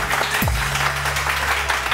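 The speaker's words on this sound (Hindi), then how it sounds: "जो सबसे ज्यादा तालियां बजाएगा, शोर मचाएगा, उसको मिलेगी।" A morning TV studio audience claps and cheers in a continuous dense wash, loud and close, with a steady low electronic tone and a brief falling swoosh sound underneath.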